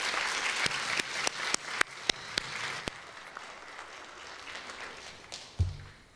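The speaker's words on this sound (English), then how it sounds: "Let's give our virtual graduates a round of applause." Applause for graduates at a small virtual graduation, a few scattered sharp claps ringing out one after another and thinning to a soft patter, fairly faint.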